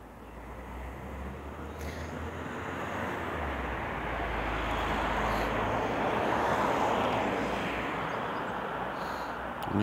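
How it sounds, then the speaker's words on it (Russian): A fixed-wing airplane flies overhead on a morning at an outdoor bus stop, its steady broad roar slowly swelling and holding, distant and alone with no talking. "О, самолетик летит."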